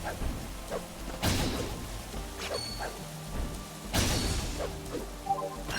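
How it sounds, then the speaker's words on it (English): Trees being smashed apart in the video game Eiyuden Chronicle Rising: two loud crashing thuds with crackling debris, set against soft patter and quieter knocks in between. "So I can just destroy trees."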